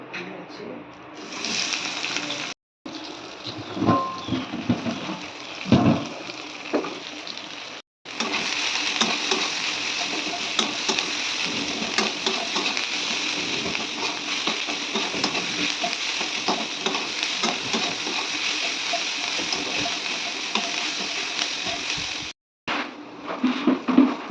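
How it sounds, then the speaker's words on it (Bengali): Onions frying lightly in a pan for posto, a steady close sizzle with stirring and scraping, cut by a few short breaks, with someone talking over parts of it. "পেঁয়াজগুলো এখন ভাজতে দেবো হালকা করে"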